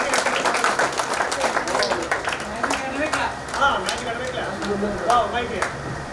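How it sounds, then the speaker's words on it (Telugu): A group claps hands together at a school reunion celebration, producing a dense, steady round of applause with voices chattering underneath. "జస్ట్ క్లాప్స్ కొట్టాలి సార్"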